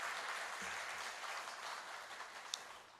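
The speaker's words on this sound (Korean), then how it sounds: "여러분 힘차게 박수로 축하해 주시기 바랍니다" Applause from a church congregation during a Sunday service, a steady wash of many hands clapping at moderate level that thins slightly toward the end, with one sharp clap standing out near the close.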